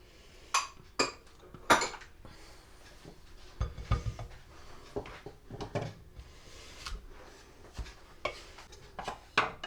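Dry cake ingredients with lemon being mixed in a bowl, giving irregular clinks and scrapes of a utensil against the bowl with short louder knocks, close and clear with no voices.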